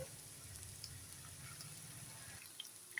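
A continuous sizzling hiss of potatoes frying in oil for potato 65 holds steady, then thins out near the end, with a few light clinks and no speech.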